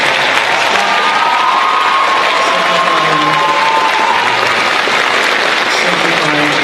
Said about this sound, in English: let's give a final round of applause to our 16th group of students